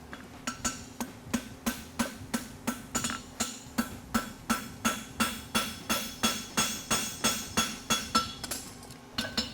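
A blacksmith hammers steel to fold it over while forging a toe grabber, with sharp ringing strikes repeating at a steady, even rhythm, about two or three per second, loud and close.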